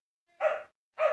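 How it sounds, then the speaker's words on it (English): A pet dog barks twice indoors, two short, fairly loud woofs about half a second apart with no talk over them. "Apologize for my dog. She is barking."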